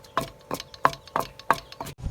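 Rice pounded in a mortar, with about six sharp, regular thuds roughly a third of a second apart, close and fairly loud, and no talking.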